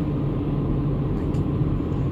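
Traffic on the road outside, a steady muffled rumble of passing cars and a truck, heard from indoors at a moderate level, no one speaking.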